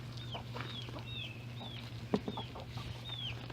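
Chickens in a coop give short, repeated clucks and calls, with a rooster among them, over a steady low hum and a brief knock near the middle.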